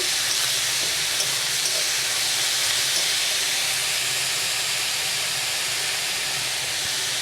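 Grated onion is added to hot oil where garlic has already fried, giving a loud, dense, continuous hiss and sizzle that stays even from start to finish.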